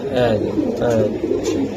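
Racer pigeons kept for sale cooing in a low, throbbing burble, close by and steady, while someone speaks over them.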